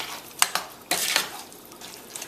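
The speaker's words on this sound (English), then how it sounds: "Give that another stir." A spoon stirs rice and peas with coconut milk in a pot, giving a few close scraping clinks against the metal, quiet and without talk.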